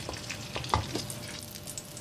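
Green pepper omelette frying in an oiled pan, a steady close sizzle with small crackles and a brief clatter as it settles, with no talking.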